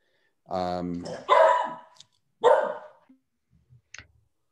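A dog barks several times at home during an online meeting, short sharp barks close to the microphone with quiet gaps between them.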